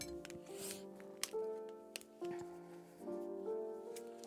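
Scissors snip through packaging while unboxing a National Geographic advent calendar, giving several short crisp cuts mixed with rustling plastic and faint handling clicks, close and quiet.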